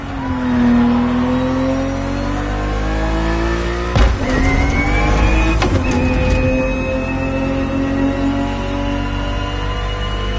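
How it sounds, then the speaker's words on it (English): Ferrari 365 GTB4 in The Crew Motorfest racing game, its V12 engine droning steadily loud with rising and falling pitch, two sharp gear-shift breaks around the middle, alone without voices. "The Ferrari 365 GTB4 is the perfect vehicle for you to experience Ferrari racing as it felt back in the 70s."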